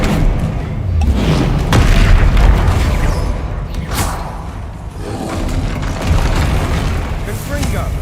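Bombarda blasting spell from a Harry Potter wizarding-school video game, heard as a series of loud, close booming explosions and thuds layered over dense game noise, with a voice talking in between.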